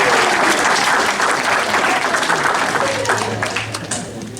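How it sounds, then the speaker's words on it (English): An audience at a youth mayor and town council meeting in Runnemede claps warmly, a loud roomful of applause that gradually thins and fades toward the end, with a faint voice emerging underneath. "Give her a round of applause."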